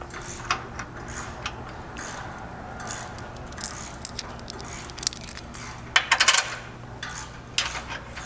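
Hardware for a JL Wrangler rear bumper install, 1/2-inch hex bolts, washers and serrated flange nuts, clinks and jingles as it is handled, with scattered small metallic taps and a brief rattling cluster near the end, close and fairly quiet.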